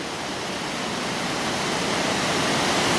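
The Falls of Dochart at Killin, Scotland, send high winter water down toward Loch Tay in a deafening, continuous roar that builds slightly and holds close and loud throughout.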